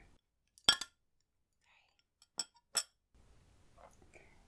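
Lemon slices drop into a glass with a few crisp, close clinks and taps, separated by quiet gaps, followed by faint soft rustling near the end.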